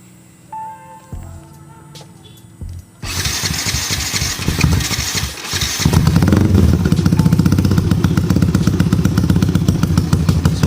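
A Yamaha Vixion motorcycle with a 63-valve-spec engine clatters and starts up after some mechanical knocks, then settles into a loud, steady, rough idle close by.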